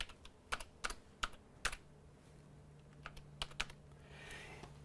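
Typing on a computer keyboard, close and quiet, in short clustered bursts of key clicks separated by pauses, with no speech.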